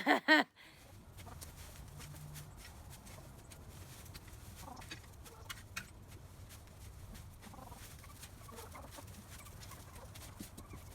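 Chickens cluck faintly and sporadically across a quiet outdoor background, with a brief loud burst at the very start.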